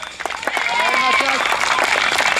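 A crowd applauds at an under-11 youth football tournament in Flayosc, honouring the tournament's best player, a dense clapping wash beneath someone speaking loudly over it.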